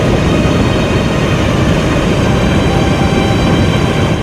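Floodwater after heavy rain in Kalaburagi, Karnataka pours over a bridge like a waterfall, a loud, unbroken broadband roar that stays constant and close, with no voices.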